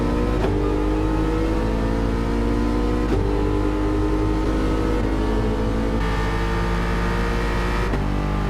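Race car engine in Gran Turismo 7 at the Atlanta circuit, a steady loud drone with revving shifts and gear changes around the corner exit, continuous and close throughout with no talk.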